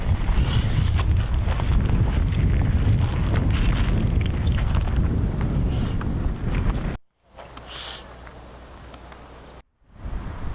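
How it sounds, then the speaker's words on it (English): Strong wind buffeting the microphone on a hiking trail at Mount St. Helens, with a loud, rumbling roar that drops out briefly near the end. "It's nice and windy now."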